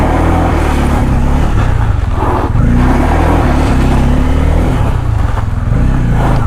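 A 2024 Bajaj Pulsar N250 motorcycle rides over gravel, its engine droning loud and steady with a low rumbling pulse and slight shifts in pitch, mixed with rough wind and road noise.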